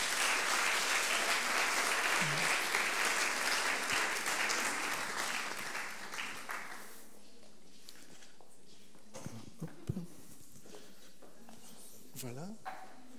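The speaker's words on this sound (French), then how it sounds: "Sous vos applaudissements." An audience at an education awards ceremony applauds partners stepping onto the stage; dense clapping for about six seconds then dies away, followed by scattered footsteps, handling noises and talk.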